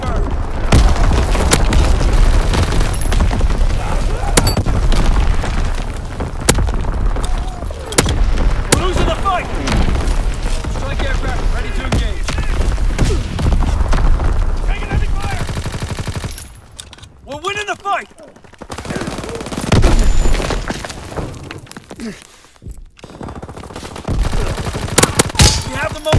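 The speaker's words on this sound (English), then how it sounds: "Firing division artillery." Division artillery fire in the World War II shooter Call of Duty: WWII, a dense stretch of booming blasts, rapid machine-gun bursts and crackling gunfire, loud and continuous with brief lulls, mixed with shouted game voice lines.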